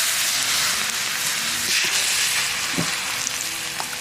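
Hot oil sizzles steadily in a pan while garlic abalone is being cooked, a dense, continuous hiss with a few sharper crackles, close and fairly loud throughout.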